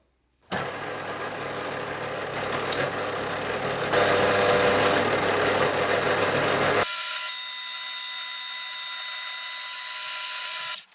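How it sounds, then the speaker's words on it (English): A milling machine faces the end of an aluminium workpiece with new cutting inserts: a loud, steady, rough cutting noise runs throughout, then shifts to a sharper, sustained high-pitched whine for the last few seconds. "I'm also going to be using different inserts this time compared to the last time I machined this aluminium"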